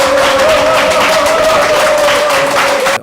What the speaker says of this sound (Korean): 격려의 박수부터 좀 한번